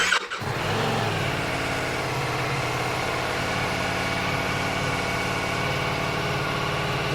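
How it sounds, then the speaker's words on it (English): A Ducati Multistrada V4S motorcycle engine cranks and catches within the first half second, then settles into a steady, close idle with a low, even rumble. It runs alone, with no talk. "we'll start it up."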